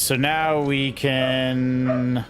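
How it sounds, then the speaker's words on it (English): Dogs indoors at home let out two loud, close, drawn-out howling yelps, one after another, while a person talks over them. "Sorry that my dogs are going absolutely bananas."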